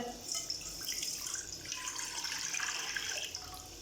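About a litre of water is poured into a cooking pot for making plum sharbat, a steady splashing, trickling stream at close range with no talking.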